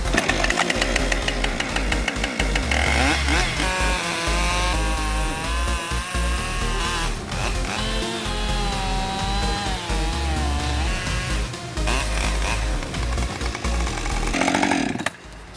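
A chainsaw cuts slowly into a tree trunk close to buildings and a driveway, its engine droning loud and steady near at hand with brief throttle dips and rising bursts, holding to the end.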